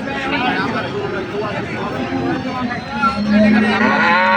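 Indian bullocks low with a deep, drawn-out moo at the crowded Panchbibi cattle market in Joypurhat, the call swelling loud near the end over a steady murmur of voices and market babble.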